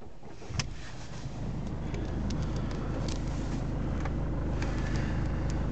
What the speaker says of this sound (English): Just start the car up.